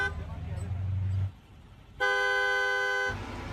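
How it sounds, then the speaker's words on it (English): A car horn honks in one sustained, bright blast lasting about a second, loud and close, following a short burst of engine and road noise. "It's because cyclists can't usually honk back, but Logan can."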